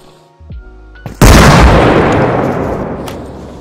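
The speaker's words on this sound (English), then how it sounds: "Throw a grenade." A grenade goes off in the military shooter Arma Reforger after a few quiet mechanical clicks: a loud, sudden close blast with a heavy booming rumble that fades slowly over several seconds.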